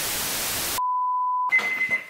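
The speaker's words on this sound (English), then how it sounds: "there's my timer, which is set for my leaven" A kitchen timer for a sourdough leaven gives a single steady electronic beep lasting under a second, clear and close, between stretches of hiss and noise.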